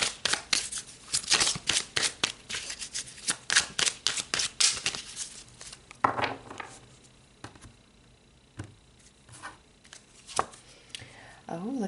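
Tarot cards shuffled by hand in a series of quick crisp riffles and flicks, followed by sparser snaps and slaps as single cards are drawn and laid down, close and fairly quiet.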